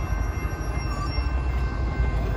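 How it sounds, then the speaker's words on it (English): A Metrolink commuter train bound for Union Station approaches a railroad crossing, its low continuous rumble and rolling rail noise heard at a moderate distance with no voices. "Metrolink heading to Union Station"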